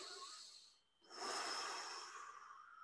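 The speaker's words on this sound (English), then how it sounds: "we're going to do deep belly breathing" Deep belly breathing: a slow, close, airy exhale, a brief pause, then a long, strong breath of rushing air that tapers off, quiet overall.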